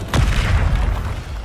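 A Bombarda blasting spell explodes in Hogwarts Legacy as one loud, close boom with a deep rumbling tail that fades over about a second.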